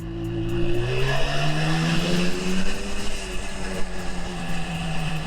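A restored 1977 Suzuki GT250 motorcycle with Micron exhausts, its engine running loud and close with a buzzy two-stroke drone whose pitch rises and falls as it revs, steady throughout with no talking.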